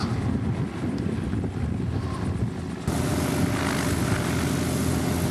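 A steady, droning helicopter engine with a low rotor-like rumble, loud and continuous throughout, the level rising slightly partway through, at the Bungle Bungles.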